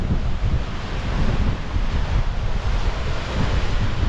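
Ocean waves surge below a cliff jump spot in Baja California Sur, with a continuous rumbling wash mixed with heavy wind buffeting the microphone and no voices.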